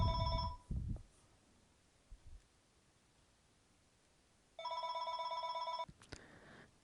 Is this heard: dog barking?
no